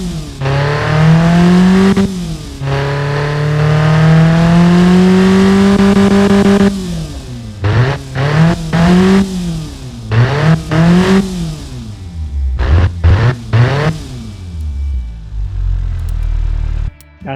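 A tuned Ford Transit 2.0L engine in the Automation game revs hard, with long rising and falling pulls, then a quick run of sharp blips. The sound is loud, close and synthetic, with no talk over it.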